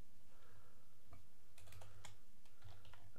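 Keys clacking on a computer keyboard while entering a search in a Windows start menu, a few quick taps then a denser burst of keystrokes, close and clear over faint low room hum.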